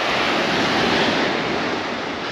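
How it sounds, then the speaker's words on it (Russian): Small waves roll onto a pebble beach at Gurzuf in Crimea, producing a steady, close wash of surf with a broad hiss and a slight rumble of wind, with no voices. "На море сегодня небольшой накат волн"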